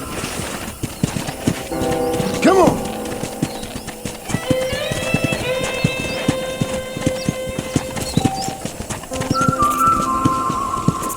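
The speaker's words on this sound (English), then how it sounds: "let's see if you can still ride a horse." Horse hooves clip-clop at a riding pace in the Western video game Red Dead Redemption, a steady close rhythm running through the clip beneath game music, with a short shout and brief whistle-like tones.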